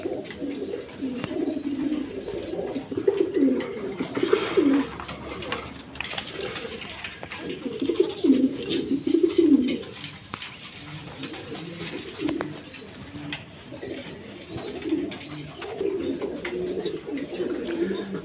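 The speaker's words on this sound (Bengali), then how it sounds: "দর্শক, দেখেন এইখানে এক পেয়ার কবুতর আছে" A pair of pigeons cooing close by in repeated low, throaty bursts with short pauses between phrases, fairly loud against a quiet background.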